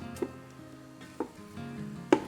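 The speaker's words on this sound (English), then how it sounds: "I'm gonna use the ground sausage and we're gonna just dump it right in there" Ground sausage dropped into a hot pan for sausage and cornbread stuffing gives a steady low sizzle, broken by three sharp clanks of a utensil against the pan.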